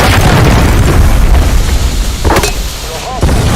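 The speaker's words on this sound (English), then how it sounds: "Hostile launched a cruise missile." Heavy, sustained booming rumble of a cruise missile strike in Call of Duty, loud and dense throughout, with a sharp blast near the end and game voice callouts faintly mixed in.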